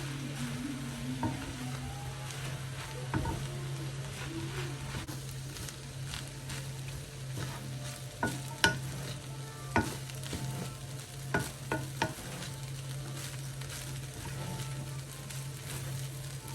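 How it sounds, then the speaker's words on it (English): Rice for Ghanaian fried rice frying in a pan with steady close sizzling, while a utensil stirs and scrapes through it in repeated knocks and clatters, no voices. "I'll just go ahead and mix everything together, and we should be done after frying everything for about 3 minutes"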